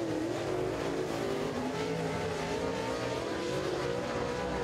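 A race car laps a dirt oval during Southern All-Star qualifying at Duck River, its engine a steady, loud, continuous roar with no voices.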